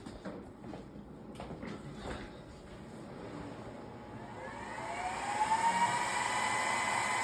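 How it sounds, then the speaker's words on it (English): An Xtool P3 laser engraver powers back on, ending a 5W IR laser module install. A few light clicks come first, then a steady whir builds and rises in pitch to a sustained hum. The sound is close and moderate, with no voices. "And then turn the machine back on."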